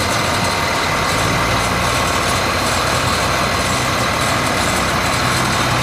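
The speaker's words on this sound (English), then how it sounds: "That is such a beautiful tractor." A tractor engine idles at a vintage tractor show, a steady, loud, broadband rumble that holds without a break throughout, with no talk over it.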